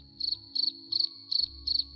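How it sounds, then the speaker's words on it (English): Crickets chirp in five evenly spaced, sharp bursts, each a quick trill, loud and close over a quiet low hum, with no voices. "Let me let you hear the sound of what the crickets sound like."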